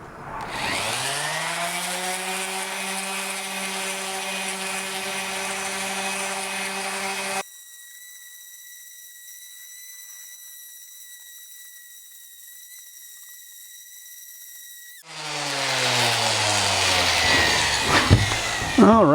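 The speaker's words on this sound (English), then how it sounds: "So we're gonna go ahead and get this sander on and start working on the bottom." An orbital sander grinds on the bottom of a cast iron pan. Its motor spins up to a loud, steady, whining drone, shifts to a thinner high tone partway through, then roars back up, with no voices.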